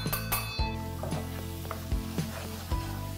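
Masala paste dropped into a pan of fried tomatoes, giving a soft close sizzle with occasional clinks of a spoon against the pan, quiet and steady with no voices.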